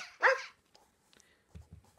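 A Present Pets toy puppy switched on gives one sharp electronic bark, followed by faint mechanical clicks and low whirring thumps from its moving parts.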